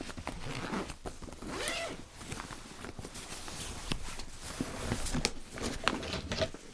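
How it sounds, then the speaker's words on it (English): Zippers on a Peak Design medium packing cube are tugged open and closed in short, uneven rasps, mixed with soft handling and fabric rustles at close range. "so having slight trouble operating zippers"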